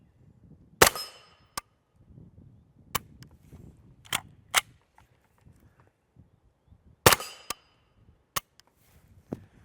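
Diamondback DBX PDW with a rimfire kit, gas setting 2, firing 5.7x28mm 55-grain FMJ rounds outdoors: sharp, widely spaced single shots with two louder blasts, plus faint handling noise between.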